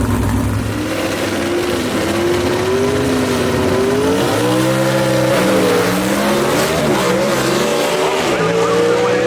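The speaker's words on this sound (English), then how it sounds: "He's going to be racing Billy Wilson out of Gaffney, South Carolina." Gasser drag race cars roar down a dragway at a Southeast Gassers event, a loud, sustained engine drone with rising and falling revs through the whole run, heard from trackside with faint crowd and announcer noise underneath.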